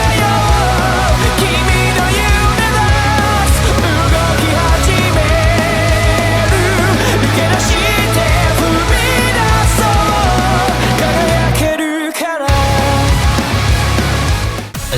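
Dense, loud electro-metal track, with heavy distorted guitars and electronic layers running continuously and a brief dropout near the end before the full mix returns.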